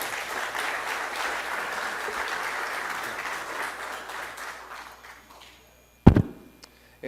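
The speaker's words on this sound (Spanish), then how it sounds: "con un fuerte aplauso, por favor" Audience applause welcoming a speaker at a lecture on US elections, a dense even clatter that gradually thins and fades out, followed by a sharp thump, a couple of taps and a brief low rumble near the end.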